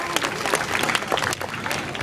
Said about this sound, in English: Let's give Kristen and Keela a big round of applause